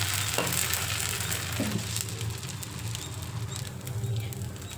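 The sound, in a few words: dosa frying on a pan with oil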